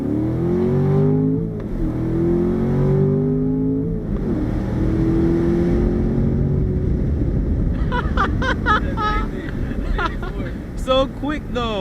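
A Chevrolet Corvette C7 Grand Sport accelerates hard from inside the cabin, its engine climbing through rising revs with quick gear shifts, loud and close, while people talk over it toward the end.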